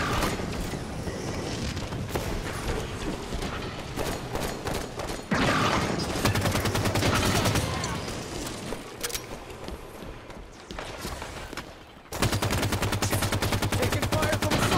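Rapid automatic gunfire from a Halo 5 Firefight match, dense bursts and sustained volleys running almost without pause, loud and close with brief drops between bursts and faint game voices mixed in.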